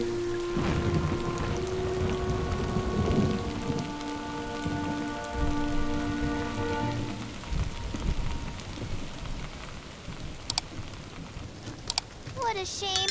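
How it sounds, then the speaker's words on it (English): Steady, heavy rain hisses throughout in an animated Heidi episode. Sustained musical tones sit over it for the first half, and brief voices and chirps come near the end. "we've got to find shelter before the heavy rain comes."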